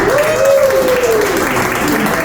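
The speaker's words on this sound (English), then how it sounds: "Give them a big cheer" A lunchtime magic show audience in Las Vegas claps and cheers loudly and steadily, with one voice sliding over the top of the dense applause.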